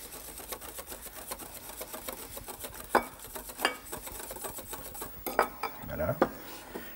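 Sugar and cream are whisked in a bowl with quick, rapid metallic strokes and occasional clinks against the bowl, continuous and close, with no talking.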